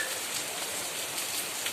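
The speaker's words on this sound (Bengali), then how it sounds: "দেখো বৃষ্টি হচ্ছে, হঠাৎ করে ঝমঝমিয়ে বৃষ্টি পড়ছে।" Sudden heavy rain pours down in a dense, steady hiss of drops striking surfaces nearby, with no pauses.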